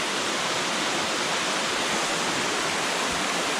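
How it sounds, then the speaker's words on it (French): Continuous rushing water, dense and even with no pauses, from a small mountain stream on Mont Lafayette flowing close by, with no voices. "Le bord du petit ruisseau aussi."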